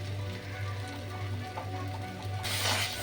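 Semolina halwa fries in ghee and oil while being stirred in a pan, a low steady sizzle with faint scraping that swells into a brighter, louder hiss near the end, under a constant low hum.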